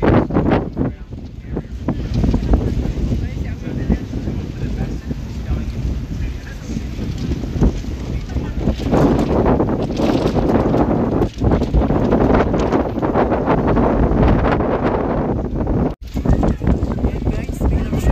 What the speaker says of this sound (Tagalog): biglang siya super lakas ng hangin